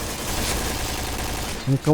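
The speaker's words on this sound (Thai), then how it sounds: "โดนระเบิดเว้ย" Rapid gunfire and blasts from a video game fill the scene in a dense, continuous rattle, with a short burst of excited talk cutting in near the end.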